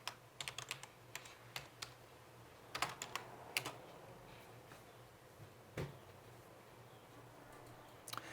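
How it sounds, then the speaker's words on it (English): Typing on a computer keyboard, heard as quiet, close clicks in short irregular bursts with pauses between them, set against a faint steady hum in a quiet room. "I could simply type para 29 exclamation point."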